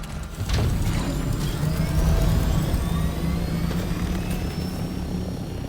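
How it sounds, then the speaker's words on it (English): An ornithopter (Thopter) flies in the video game Dune: Awakening, a loud, steady droning hum with a low rotor-like throb and faint rising whine, sustained throughout with no talk. "I will say the Thopter sound effects are really, really loud."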